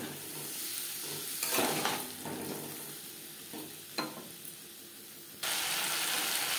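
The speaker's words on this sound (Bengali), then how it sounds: "মশলার সাথে আমি 4-5 মিনিট নাড়াচাড়া করে নিয়েছিলাম।" Taro root is stirred with spices in a cooking pan, giving a steady sizzle with several louder scraping strokes of the spoon, close up and continuous, with no one talking.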